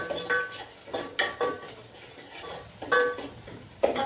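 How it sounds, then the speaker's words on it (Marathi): A spoon stirs chicken masala with homemade spice powder in a kadhai, scraping and clinking against the pan in several distinct strokes, close and moderately loud. "छान असे हलवून घ्यायचे."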